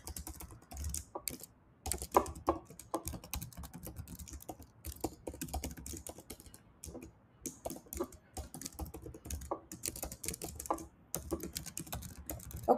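Rapid, uneven key clicks on a computer keyboard as a keyword is typed, with quiet close-up taps in short bursts and brief pauses, no voices.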